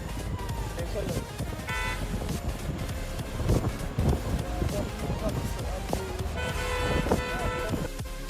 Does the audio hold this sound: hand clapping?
no